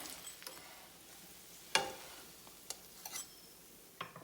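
A mooli paratha cooks on a hot pan, giving a soft, steady sizzle with a sharp scrape near the middle and a few light clinks and stirring sounds, no voices.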